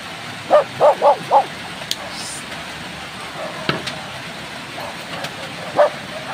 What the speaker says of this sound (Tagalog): Yung kasama ko na aso.